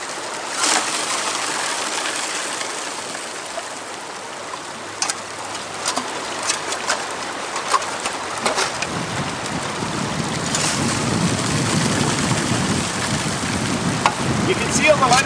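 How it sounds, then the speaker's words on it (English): Water washes gravel through a roll-up portable sluice box outdoors, a continuous rushing and splashing that grows fuller and louder toward the end, with wind buffeting the microphone. "You can see all the lighter stuff being washed out."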